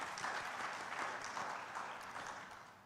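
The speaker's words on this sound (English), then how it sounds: "let's give him a round of applause for everything" Applause from a live-streamed audience at a social enterprise presentation, a steady dense wash of many hands clapping that holds evenly and tapers slightly toward the end, with no voices over it.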